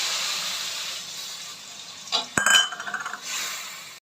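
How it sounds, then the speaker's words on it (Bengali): Potatoes and onion with spices frying in a kadai, a soft sizzle with a few metal clinks and scrapes of a spoon stirring against the pan. "সেই আলু সেদ্ধগুলো এই পেঁয়াজের মধ্যে আমি দিয়ে দিচ্ছি দিয়ে আবার নাড়াচাড়া করে একটু ভেজে নেব"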